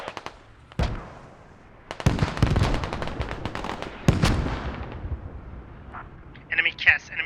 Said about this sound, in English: They're mortaring the radio.